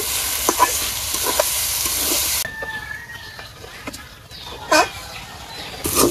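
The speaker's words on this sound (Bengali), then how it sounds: "এইবার ডাল দিয়ে এই মশলার লগে ভালোভাবে ভাজা ভাজা করে নিব।" Lentils frying in a pan with turmeric, salt and spices, a steady sizzle with stirring scrapes for the first couple of seconds, then a quieter stretch of faint clinks, a rooster-like call and a brief sharp knock near the end.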